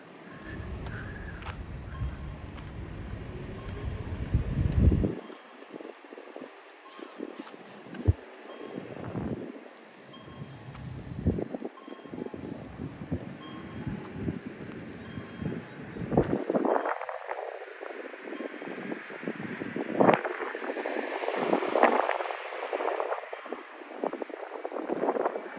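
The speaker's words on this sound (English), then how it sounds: "It's windy." Gusty wind buffets the microphone in uneven bursts while walking in Tokyo along the Chuo Line near Kichijoji, roaring and fading over a long stretch with no voices.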